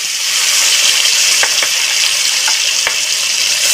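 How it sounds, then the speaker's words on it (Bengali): Small live rohu fish fry in hot oil in a pan, giving a steady loud sizzle with a few sharp pops and spatters standing out over it. "আমি মাছগুলো এবার ভেজে নেব।"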